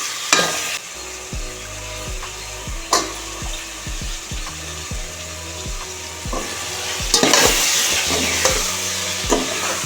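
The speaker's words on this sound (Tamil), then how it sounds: "வெங்காயம் வதங்கிடுச்சு தக்காளி போடுறோம்" Onions and tomatoes sizzle and fry in a pan while a utensil stirs and scrapes, with occasional sharp knocks against the pan, close and continuous.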